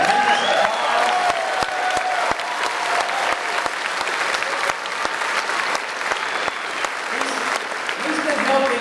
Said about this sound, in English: Rocky Lynn, doesn't he deserve a tremendous applause?